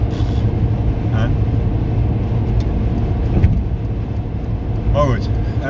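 Car cruising at over 100 km/h, with a steady loud road and engine roar filling the cabin throughout and a few brief bumps and whooshes over it.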